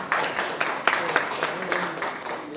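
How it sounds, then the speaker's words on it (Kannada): Scattered applause at a film song launch event, a short burst of uneven hand claps from a modest crowd in a hall. "ಸಂಕೋಚ ಪಡ್ಬಿಡಿ, ಜೋರ ಹೊಡಿಲಪ್ಪ ಚಪ್ಪಾಳೆ"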